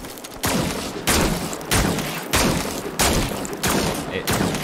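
Heavy gunfire from the sci-fi video game Scars Above, arriving as five or six loud, booming bursts spaced roughly evenly apart, each one dense and drawn out, with nobody speaking.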